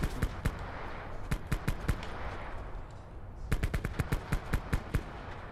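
Bursts of automatic gunfire in a shooter video game: two quick volleys of sharp, loud shots in rapid rhythm, separated by a short pause, over a steady background din.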